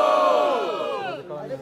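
A crowd cheers and shouts at the grand final of a Brazilian rap battle, Batalha do Coliseu. Loud, close voices roar together and then taper off over a couple of seconds.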